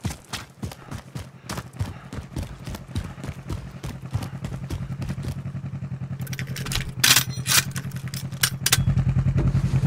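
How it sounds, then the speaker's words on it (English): Light vehicle in a multiplayer shooter video game, its engine rumbling steadily with rattling, clattering bursts and scraping as it drives over terrain, fairly close and continuous throughout. "Light vehicle here."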